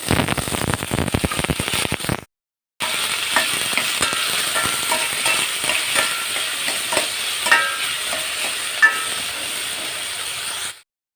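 Vegetables sizzle and crackle in hot oil with green chilies and curry leaves while being sautéed for sambar, a steady frying hiss broken by a brief gap and scattered stirring clinks.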